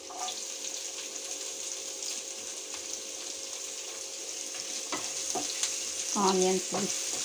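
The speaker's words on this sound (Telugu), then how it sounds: "ఆనియన్స్ ఫ్రై అయిపోయినాయి." Onions and green chillies fry in a pan with a steady sizzle, stirred now and then, with a few louder scraping and clattering touches near the end.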